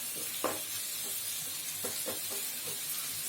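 Tomato rice stirred in a hot pan over a steady sizzling hiss, with a few soft scraping strokes of the spoon standing out close by.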